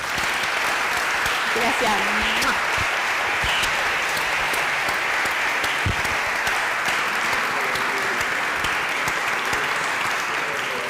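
A debate audience gives a speaker a strong, sustained round of applause, a steady, even clatter of many hands across the whole span, with a brief spoken word of thanks under it.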